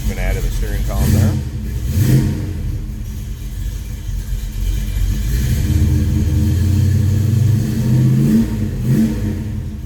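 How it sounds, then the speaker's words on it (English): A 1972 Chevrolet Chevelle SS tribute's engine rumbles and revs in a few bursts, fairly close, with a person talking over the steady idle between throttle blips. "Get an idea how nice this car sounds"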